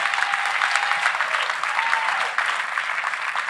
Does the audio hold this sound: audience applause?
yes